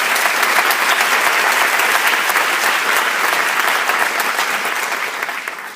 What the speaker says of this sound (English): I would ask you to join me in a round of applause.